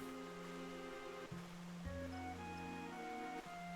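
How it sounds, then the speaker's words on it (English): River water in Final Fantasy XIV flows in a steady, soft wash beneath sustained tonal game music notes, with no voices present. "Such a soothing sound. One day I shall build a home by the river."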